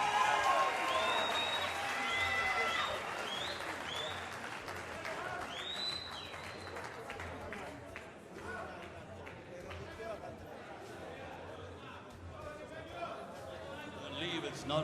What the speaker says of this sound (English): Both fighters deserve a great round of applause.